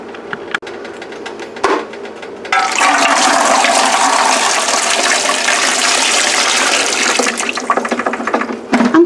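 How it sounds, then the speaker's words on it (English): Water gushing into a pressure canner for raw-packed chicken breast, a loud steady pour that starts abruptly after a few handling clunks and runs on, tapering into splashes at the end. "then we'll add some water in there."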